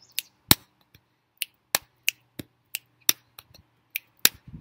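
Body percussion pattern of chest or thigh booms, finger snaps and claps, sharp isolated hits in a steady, sparse rhythm, close and dry, with a faint low hum beneath.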